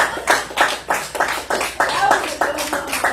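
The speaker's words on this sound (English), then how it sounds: "Clap them up." Hand claps in a steady rhythm, about ten sharp slaps spaced roughly a third of a second apart, close and loud, with voices mixed in among them.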